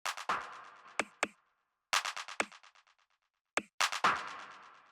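A dry techno percussion loop of short, sharp clicks and ticks with no drum bus processing, arranged in quick clustered bursts separated by brief silences, repeating at a faint level with no talking.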